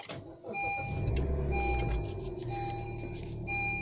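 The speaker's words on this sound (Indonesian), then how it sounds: "Kita nyalakan dulu mesinnya." A Honda Jazz RS GK5 facelift starts up with a short crank, then settles into a quiet idle heard from inside the cabin, while repeated electronic dashboard chimes sound over it.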